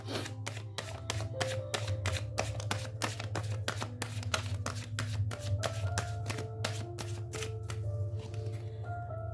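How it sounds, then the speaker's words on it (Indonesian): Rapid, continuous riffling of a deck of tarot cards being shuffled by hand, with crisp repeated flicks close up and a faint hum behind them. "Saya akan ambil kartunya lagi."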